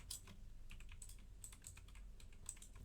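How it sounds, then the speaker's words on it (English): Fingers type a prompt into an AI chat tool on a computer keyboard, a faint, quick run of scattered key clicks at an uneven pace against a quiet background. "let's just go ahead and type something like, give me the names for this Excel."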